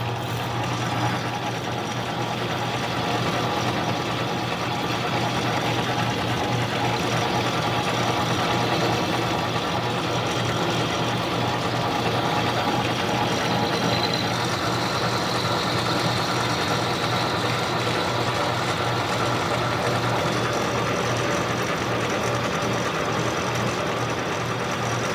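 A mini lathe faces non-ferrous metal in high gear, a steady motor drone with a low hum and a broad cutting hiss running evenly throughout without pause.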